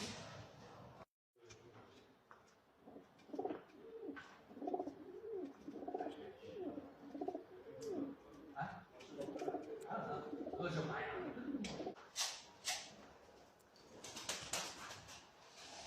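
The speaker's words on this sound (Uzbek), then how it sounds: "Qo'ldan kelgancha oq kaptarlarni ham obzorini qilganmiz." White pigeons at a home coo repeatedly in soft, rolling calls, with occasional wing flutters, while voices murmur faintly in the background.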